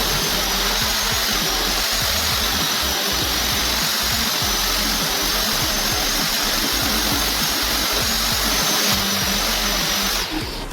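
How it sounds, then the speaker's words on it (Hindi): A grinding machine polishes a round-shaped marble wall shelf, giving a loud, steady abrasive roar that runs unbroken and close for the whole stretch. "तो ऊपर का वाला बाकी है और अब हम घिसाई करेंगे।"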